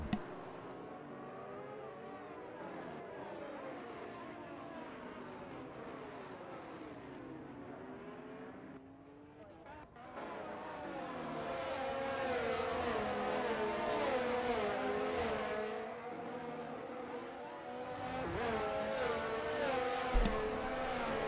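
Open-wheel race car engine in the F1 22 video game at Bahrain, a continuous high-pitched whine climbing and dropping through gear changes, steady and loud throughout with no voices over it.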